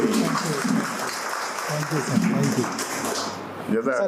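A crowd applauds steadily at a Doctors' Day event, the clapping continuing as a voice talks over it.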